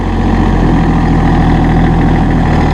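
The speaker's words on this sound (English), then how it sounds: "And you're driving a new Massey Ferguson" A new Massey Ferguson GC1723E sub compact tractor idles close by, its engine giving a steady, even low rumble that holds unchanged throughout with no voices.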